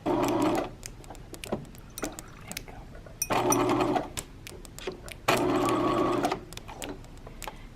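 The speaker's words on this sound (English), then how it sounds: "then I'll just stitch it shut" A sewing machine stitches a bag lining shut in three loud, steady bursts of rapid mechanical whirring, separated by quieter pauses filled with fabric handling and light clicks.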